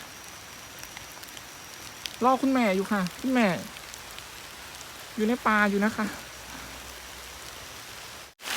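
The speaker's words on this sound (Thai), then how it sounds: "ตอนนี้ฝนก็กำลังตกนะคะ" Steady rain falls in a forest, a dense, even hiss of drops on leaves and ground running throughout, while someone talks in short bursts over it.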